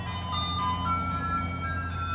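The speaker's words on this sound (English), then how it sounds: "The ice cream truck is coming with a loud noise, but it's okay." Ice cream truck chime plays a steady, sustained melody nearby, moderately loud and continuous with a low engine hum underneath, no talking.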